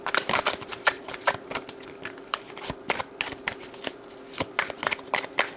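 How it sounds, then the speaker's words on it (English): A deck of tarot cards is riffled and shuffled by hand in rapid, crisp bursts of flapping and clicking, close and fairly loud throughout with no talking. "So we got to get them nice and shuffled."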